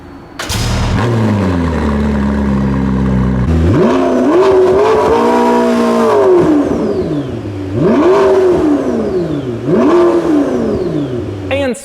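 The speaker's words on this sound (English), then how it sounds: "Take a listen to a startup and then a couple of revs." A McLaren P1 supercar engine fires up with a sharp burst, then settles into a rumbling idle before several loud revs rise and fall in pitch, close by.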